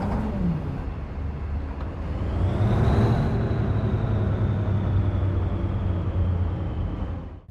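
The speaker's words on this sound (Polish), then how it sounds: "Dźwięk silnika pojazdów, typowy dla ciężarówek." A heavy truck engine from a trucking and logistics simulator game rumbles low and steady, rising in a smooth rev that peaks briefly then settles into a sustained drone before cutting off.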